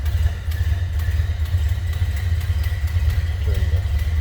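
A 1930 Ford Model A Deluxe Sedan engine idling just after starting, a steady low rumbling putter close by with faint clatter, running evenly throughout.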